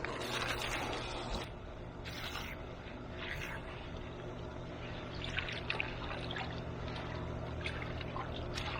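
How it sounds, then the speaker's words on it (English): A garden hose fills a barrel with water, producing a steady, continuous pouring and splashing rush that runs throughout at moderate level with no one talking. "we're going to fill this all the way up to the top with water"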